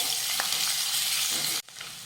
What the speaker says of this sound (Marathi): आल्याचा आणि लसणाचा कच्चेपणा दूर होईपर्यंत आपण हे छान असं परतून घेऊयात